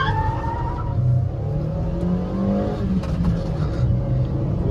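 Ford Figo and Maruti Swift accelerating side by side in a drag race, each carrying two people with air conditioning off: a steady, loud engine drone with rising pitch as the cars pull away, no voices.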